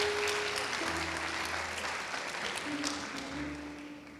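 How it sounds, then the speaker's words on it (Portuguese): A crowd at a church family conference claps for the volunteers, steady dense applause lasting throughout and fading slightly toward the end, with sustained musical tones underneath. "Uma salva de palmas aqui para os nossos"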